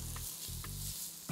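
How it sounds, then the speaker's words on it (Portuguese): Garlic sizzles in olive oil in a soup pan, a steady close frying hiss broken by a few brief stirring scrapes. "Aqui azeite? Isso, azeite. Dá uma fritadinha no alho."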